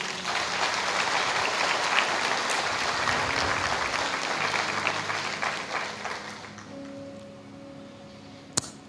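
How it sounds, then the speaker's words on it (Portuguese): A church congregation applauding, with full, continuous clapping that gradually thins toward the end, some faint voices and a tone rising under it, and a single sharp knock near the close. "Você pode aplaudir a Jesus por ele?"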